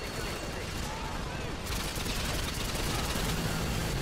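Machine gun fire from Call of Duty crackles in fast, dense bursts that blur into a continuous rattle under distant battle noise.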